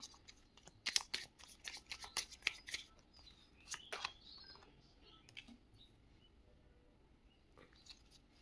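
Tarot-style playing cards are handled and shuffled at close range, giving faint crisp flicks and papery slaps in an irregular cluster that tapers into quiet rustling.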